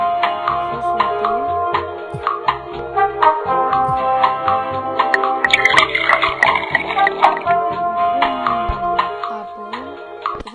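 Liquid pouring and dripping in a bartender video game, with clinks and ticks from glasses and bottles mixed with game sounds while someone talks over it.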